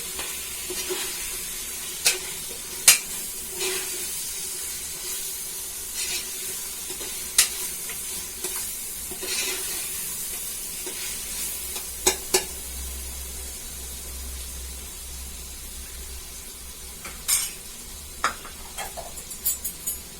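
Slit green chillies sizzle in a pan of hot oil for goat's leg kurma, a steady close hiss broken by sharp scraping stirs and spatula knocks at irregular intervals.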